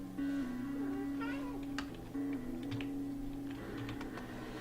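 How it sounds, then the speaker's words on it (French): A cat meows as it wakes, short vocal calls standing out over a steady tonal background hum and occasional soft clicks, fairly close and moderately quiet. "Ah, et mon chat qui se réveille."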